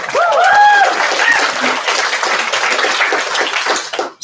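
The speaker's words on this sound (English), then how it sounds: "Give me a round of applause." Loud audience applause at an awards ceremony, full and sustained with whoops and cheers rising near the start, then holding steady before cutting off abruptly at the end.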